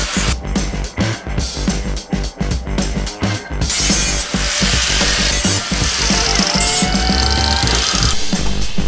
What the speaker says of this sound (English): Now I'm gonna use the grinder and just clean up the edges a little bit.